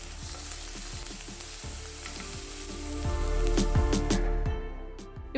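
Shallots, garlic and curry leaves sauté in a pan with a strong, close frying hiss, punctuated by rhythmic scrapes and taps of a spatula stirring, swelling louder toward the end before easing off.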